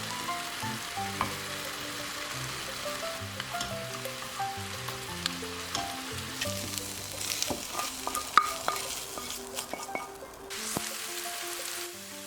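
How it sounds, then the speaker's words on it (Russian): Food sizzles steadily in a hot pan, browning to a golden crust, with a continuous crackling hiss and occasional scrapes and clicks as it is stirred. "И обжариваем до золотистой корочки."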